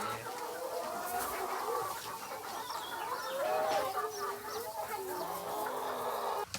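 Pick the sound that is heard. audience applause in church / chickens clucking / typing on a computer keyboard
chickens clucking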